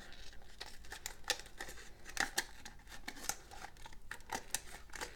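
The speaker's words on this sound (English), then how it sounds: "What I'm doing is taking a little cup, and I am going to cut out the bottom." Scissors cut out the bottom of a small plastic cup in a quiet setting, with a run of sharp, close snips and faint crinkling of the plastic in an uneven rhythm, and no talking.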